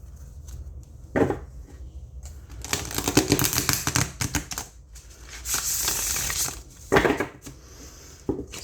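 A tarot card deck with thick cardstock being shuffled by hand, producing close, crisp riffling and flapping bursts with soft taps in between, with no one talking.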